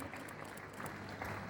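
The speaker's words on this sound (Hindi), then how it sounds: "तालियां बजती रहनी चाहिए।" An audience applauds at a ceremony at St. Xavier's College, Simdega: a faint, steady patter of many hands clapping, heard briefly and without pause.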